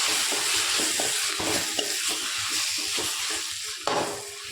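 Chopped tomato sizzles steadily in a hot pan with fenugreek greens, while a spoon scrapes and stirs in a loose, repeating rhythm, close and fairly loud.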